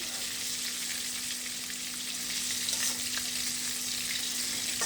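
Chicken pieces for a KFC-style fry sizzle in hot oil as they are turned one by one, making an even, dense crackle throughout at close range, with a few faint knocks and no talk.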